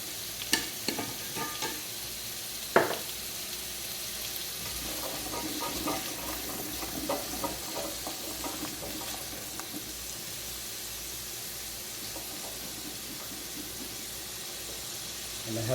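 Salted onion frying in a pot over high heat gives a soft, continuous sizzle with stirring scrapes and a couple of sharp knocks early on, fairly quiet with faint talk in the background.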